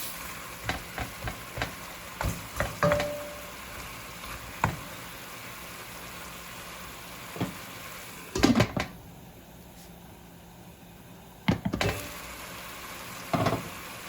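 Jamaican oxtail cooking slowly in a pot, with a soft steady simmer under scattered spoon stirs, clinks and knocks against the pot, and a brief lid or cupboard clatter.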